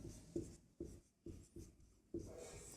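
Chalk or marker writing on a board during a Class 10 probability maths lesson, four or five short scratchy strokes in an uneven rhythm, close and quiet, with no voice over them.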